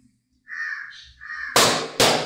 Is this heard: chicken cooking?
no